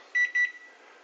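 A microwave oven set to medium power while cooking rice-cake dough for Korean mochi gives two short, clear electronic beeps in quick succession, close and alone with no talking.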